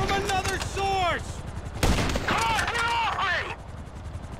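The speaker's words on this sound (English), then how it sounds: "We are taking fire from another source." Gunfire rings out during a GTA 5 mission, with a sharp shot cutting through amid raised in-game voices talking and shouting over the action.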